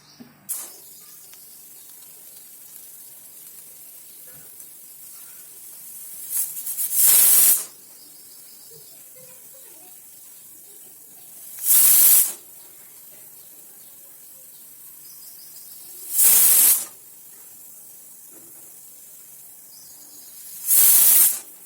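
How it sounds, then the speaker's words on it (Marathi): A pressure cooker cooking cluster beans vents four loud, hissing whistle bursts spaced a few seconds apart, with quiet kitchen background in between. "हे शिट्टीवरच वाफेवरच एवढं मऊ शिजतंय"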